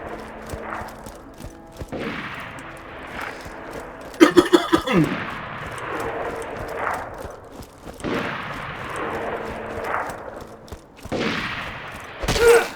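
Bandit shotgun fire in Borderlands 2 sounds as a quick cluster of loud, punchy blasts over a steady bed of game ambience and combat noise.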